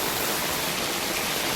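Heavy storm water rushes steadily from a French drain into a sump pit served by a Zoeller 1/2 HP sump pump, a dense continuous roar of flowing water with no pauses.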